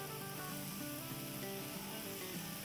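Chunks of goat liver kaleji sizzle steadily in a pan after about four tablespoons of oil are added, giving a constant, even hiss over a faint low hum in a home kitchen.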